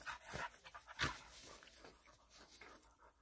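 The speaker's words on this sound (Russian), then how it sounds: "Ну, собаки." Dogs panting nearby in quick breathy bursts, with a louder burst around the middle and soft rustling throughout, no speech.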